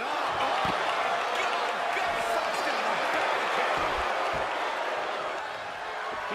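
Wrestling arena crowd in the WWE 2K23 video game, a broad continuous roar of cheering and applause that stays loud and even, then dips slightly near the end.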